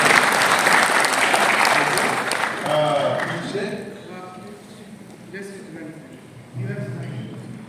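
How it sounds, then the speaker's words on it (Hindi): Audience applause at a startup pitch conclave, a dense burst of clapping that fades after a few seconds into scattered talk and voices in the room. "पहले तो थोड़ा प्रोत्साहन के लिए ताली बजाएं."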